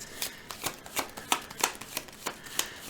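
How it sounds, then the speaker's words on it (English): Cards riffle and snap in quick bursts, a deck being shuffled repeatedly at close range, each flurry short and crisp. "I guess we have to shuffle our deck first, so let's do that"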